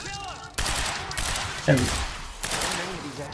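Gunshots ring out in the video game Quantum Break, a couple of sharp shots and bursts against tense game sound, with a player speaking briefly over the action.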